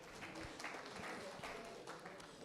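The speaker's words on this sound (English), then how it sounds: "One more time, a round of applause." An audience at a police community relations committee event in Edo State gives a faint, distant round of applause, scattered claps rising and falling over a few seconds.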